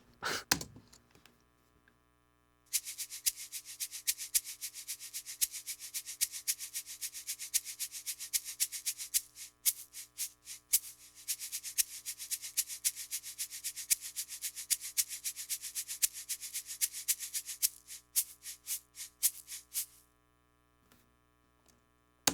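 A rapid, steady shaker rhythm of dense rattling strokes, running continuously for a long stretch over a low hum, close and moderately quiet.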